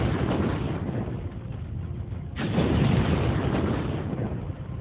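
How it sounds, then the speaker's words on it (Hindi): Explosions at a fireworks factory in Sivakasi come as dull, heavy booming rumbles, with one sharp blast partway through, ringing out over a continuous low roar. "और कुछ ही पलों के भीतर धमाके होने लगे।"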